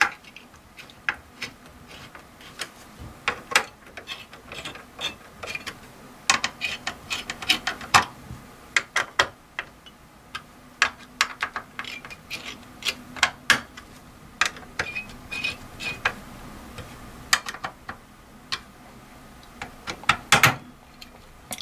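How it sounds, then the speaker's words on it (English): Screwdriver driving heatsink screws down on an HP server blade motherboard, a series of sharp irregular clicks and ticks at close range, scattered through the whole stretch with quiet gaps between. "Start tightening screws in a cross pattern as always."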